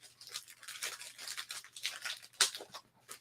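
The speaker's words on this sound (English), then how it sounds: "I should just use my scissors from the beginning" Scissors snip through a mail-day package in a string of quick, crisp cuts and rustles, close and fairly quiet, with no talking.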